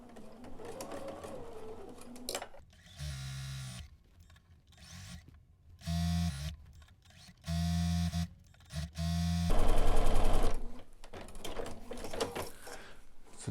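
A sewing machine stitching quilt pieces together in several short, loud whirring runs of motor and needle, separated by pauses with quieter handling noises.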